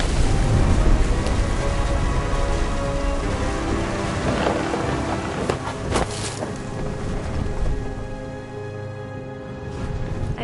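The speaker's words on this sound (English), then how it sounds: "Thunder sounded much too close and full of angry power." Heavy rain pours steadily in the game What Remains of Edith Finch, with deep rolls of thunder building in the middle of the storm, close and loud, and no talk.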